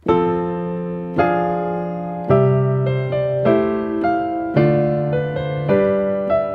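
Solo piano playing a slow closing phrase: a few sustained chords struck one after another, each ringing and fading, clear and close.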